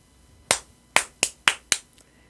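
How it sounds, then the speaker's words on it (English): Five sharp hand claps ring out in a quick, slightly uneven series, close and crisp against a quiet background. "I'm making those claps so that..."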